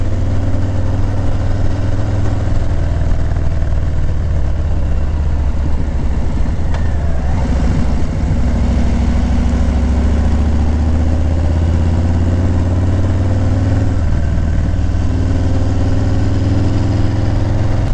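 A Harley-Davidson FXLRS engine rumbles steadily on a canyon road, a deep, continuous mid-low throb with gentle swells as the throttle shifts, heard up close from the rider's seat amid constant wind noise.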